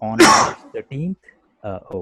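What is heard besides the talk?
person coughing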